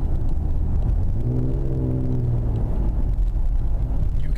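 Ford Explorer Sport with a Borla exhaust rumbling in drive mode, a deep steady drone with a brief rising engine swell in the middle before settling back to a low, subdued hum.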